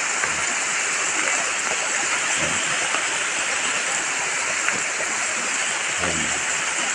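Rainwater runs steadily along a waterway after a downpour, a continuous broadband rush of flowing water with faint splashes, steady and fairly close throughout.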